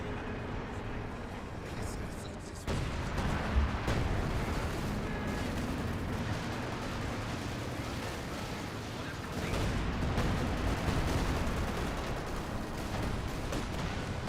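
Incendiary artillery barrage in Company of Heroes 2 rumbles as a dense, continuous wash of explosions and crackling fire, stepping up in loudness around the third second and again near the tenth, with no speech.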